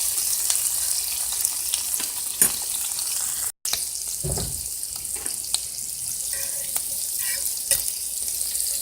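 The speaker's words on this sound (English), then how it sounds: "Just let that cook for a little bit. Just stir everything around every now and then." Scarlet elf cup mushrooms frying in a pan beside meat, a continuous close sizzle broken by occasional sharp stirring clicks and scrapes, with a brief dropout midway and no talk.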